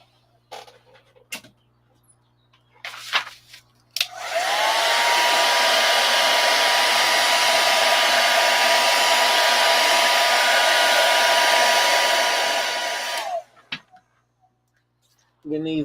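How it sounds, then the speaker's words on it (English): A hair dryer blows in one steady, loud whooshing burst of about nine seconds, with a few knocks and clicks from bench work before and after. "you can hit them with a hair dryer, and they'll loosen up enough that you can get them open."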